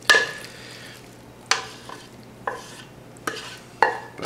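A spoon stirring mac and cheese with bacon in a pan, four or five distinct scraping strokes spaced about a second apart over a faint sizzle, close and clear, with no talk.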